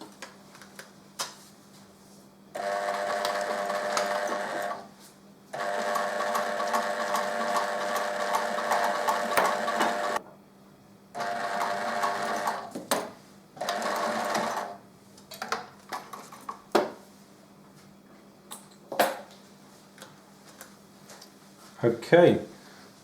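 A sewing machine runs in repeated bursts of several seconds, stitching a bias-bound hem in the ditch with black thread. The whirring bursts are close and steady, with short pauses between them, followed by scattered clicks and handling noises.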